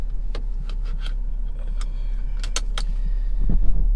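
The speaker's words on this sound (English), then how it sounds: "So I'm gonna put my seatbelt on." Seatbelt being fastened inside a 2020 BMW X3 M: a quick series of close, sharp metallic clicks and buckle jangles over a steady low cabin hum, with a soft rustle building near the end.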